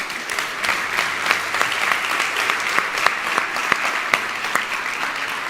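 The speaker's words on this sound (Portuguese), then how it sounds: "Uma salva de palmas para quem está vivo" Live audience applause, a steady burst of dense clapping from a crowd that carries on for several seconds without talk over it.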